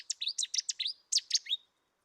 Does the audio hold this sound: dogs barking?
no